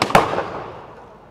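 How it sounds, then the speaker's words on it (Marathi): Firecrackers are set off at an outdoor cricket trophy prize distribution ceremony, giving a couple of sharp cracking bangs that fade quickly into a lingering rumble. "थोडं सांगून लावा फटाके."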